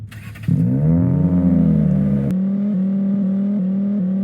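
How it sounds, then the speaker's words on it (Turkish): A car engine revs up and pulls away, a steady mid-pitched hum that rises then settles into a loud, continuous drone, with no talking over it. "Araba gidiyor araba."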